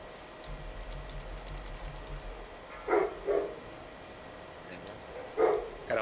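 A pack of dogs barks in short bursts inside the Ahn'Qiraj raid in World of Warcraft, with several distinct yelps over steady game ambience and rain-like background noise.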